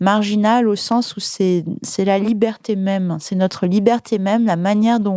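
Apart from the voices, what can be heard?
No everyday noise stands out behind the speech.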